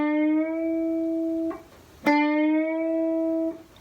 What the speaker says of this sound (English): Another very common articulation is a bend.